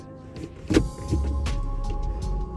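Motorized rear-window sunshade of a Kia Cadenza running inside the car: a steady electric motor whir lasting a couple of seconds, close and moderately loud, with a soft click near the start.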